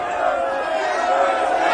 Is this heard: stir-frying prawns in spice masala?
no